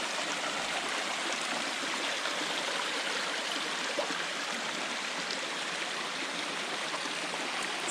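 A small stream crossing a hiking trail on The Nubble, a steady, continuous rush and trickle of flowing water heard close up, with no voices.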